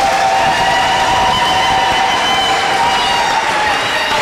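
A Catholic church congregation applauds its priest: dense, steady clapping fills the whole stretch at a loud, even level, with a sustained whistle-like tone running through the crowd noise.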